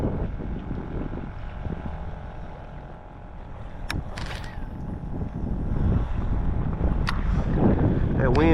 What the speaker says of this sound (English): That wind picking up, man.